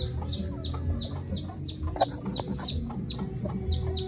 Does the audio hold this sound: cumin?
no